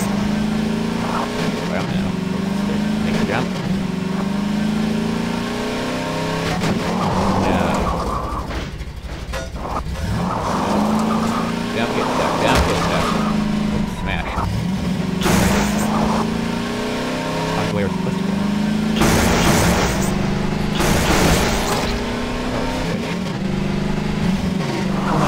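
A car tears around wildly in the Half-Life 2 video game, its engine revving and surging with repeated bursts of acceleration and crashing impacts, while people talk over the driving.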